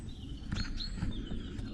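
Small wild birds chirping around a log outdoors, a few short high tweets scattered over low rumbling background noise, moderately faint and without speech.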